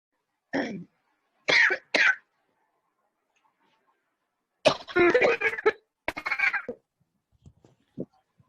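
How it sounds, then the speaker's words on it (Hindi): Several sharp coughs in separate bursts: one, then a pair, then a longer rough coughing fit and a few final hacks, close and fairly loud. "मैम आपको भी खांसी हो गई?"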